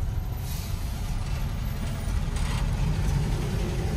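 Dense road traffic in a jam on an Indian highway near a roadside dhaba: a steady low rumble of idling trucks and buses with a hiss of air brakes, continuous and fairly loud, with no talking.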